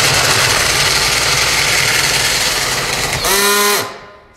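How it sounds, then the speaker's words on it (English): A drill driving a RIDGID FlexShaft drain cleaning machine runs with a steady loud whir, then its clutch slips out with a brief rising ratcheting whine before the motor spins down and stops, close by. "that right there is when I just got into my rope and that drill clutched out"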